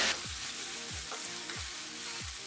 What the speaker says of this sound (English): Now I'm gonna add 1 tablespoon of ginger and garlic paste and fry for